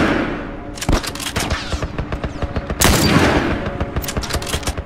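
Rapid bursts of gunfire from The Last of Us, fired through narrow slits, crackle in dense repeated volleys with heavy booming shots, loud and close throughout with no talking.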